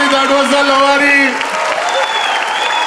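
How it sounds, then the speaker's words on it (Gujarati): Audience applause at a Gujarati comedy show, a continuous dense clapping close by, heard under a loud host voice speaking over it. "Round of applause for Princey, everybody."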